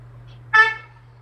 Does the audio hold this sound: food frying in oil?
no